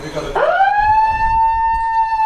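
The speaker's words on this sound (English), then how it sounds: "here's the siren for quarter time" A quarter-time siren at an amateur Australian football grand final sounds close and loud, sliding quickly up in pitch and then holding one steady tone to the end.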